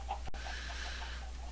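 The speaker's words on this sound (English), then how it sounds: "I've got two more of these that I can use for these chickens" A chicken in a video game clucks softly a few times over a low steady hum, with a brief sharp click near the start and no voices.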